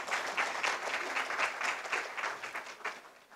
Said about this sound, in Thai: ขอเสียงปรบมือให้ท่านด้วยครับ